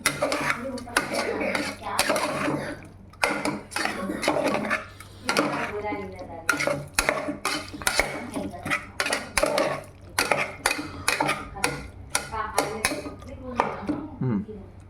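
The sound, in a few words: stirring salt into semiya biryani in a pot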